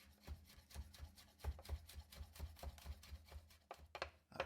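A knife thinly slices crushed garlic on a board in quick, regular close taps, each stroke landing with a soft thud and scrape, faint and steady.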